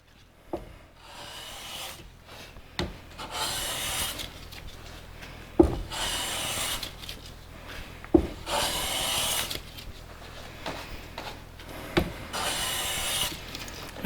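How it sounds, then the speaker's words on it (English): A hand plane takes a light cleanup pass across the full width of a wooden drawer front: a series of dry, rasping wooden strokes with a few sharp knocks between them, close and moderately loud, with no voices. "Take a really light cleanup pass across the entire width of the front."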